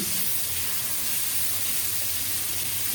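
Cut, washed potatoes stirred in a pan over a tempering of split green chillies, giving a continuous moderate sizzle with a soft, steady texture throughout and no voices.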